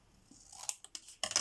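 Scissors snip through paper while cutting out a picture for a card: a few quick, crisp cuts, close and fairly quiet, with short pauses between them.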